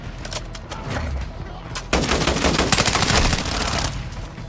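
Rapid gunfire from a Call of Duty style shooter game, bursts of repeated shots that grow denser and louder after a quieter opening, near and sharp, alone without talking.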